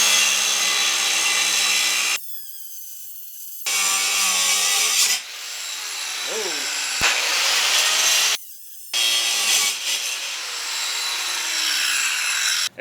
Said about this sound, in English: they showed cutting the thick side of a brake rotor